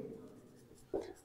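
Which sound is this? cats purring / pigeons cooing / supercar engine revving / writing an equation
writing an equation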